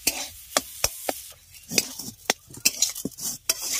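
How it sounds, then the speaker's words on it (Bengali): Spiced jackfruit mixture for jackfruit chops being stirred and dried in a pan, with a rapid series of sharp spatula scrapes and knocks over a faint sizzle and no talking. "এবার পুরোটাকে খুব ভালোভাবে কষিয়ে নিয়ে এটাকে পুরো শুকনো করে নিতে।"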